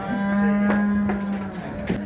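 A single long, steady moo from cattle at a livestock market, fairly close, over a murmur of background market noise and a few faint thuds.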